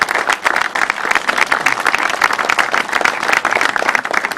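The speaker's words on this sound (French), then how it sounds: "je vous demande à leur tour de les applaudir" An audience at a political meeting in La Seyne-sur-Mer claps for those being honoured, a loud, dense round of applause with sharp individual claps throughout.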